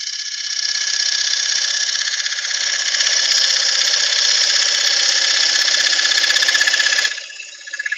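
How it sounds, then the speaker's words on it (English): A wood lathe spins a workpiece in a chuck at 957 RPM, giving a steady, loud, high whirring hum that holds evenly for about seven seconds, then drops away sharply near the end, with no talking. "957 RPM I'm spinning this out."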